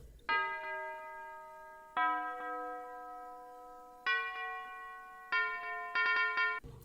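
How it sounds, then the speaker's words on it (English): A bouncy bell synth in a trap beat plays bright, ringing tones that follow the root notes, with a few sustained hits and then quicker repeated strikes near the end, loose against the downbeat. "So I added a bell that also follows the root notes, but it's a bit like kind of random and bouncy."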